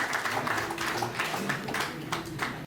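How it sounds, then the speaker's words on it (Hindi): Audience applause welcoming a poet at a Hindi comic poetry gathering, a steady patter of many hands clapping throughout, moderately loud and close. "जोरदार तालियों से आप उनका स्वागत करें।"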